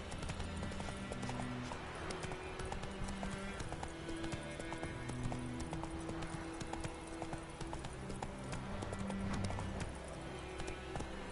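Horse hooves clip-clop in a quick, steady gallop in The Witcher 3, with an occasional whinny. Soft game music plays underneath and the sound stays continuous and moderately quiet.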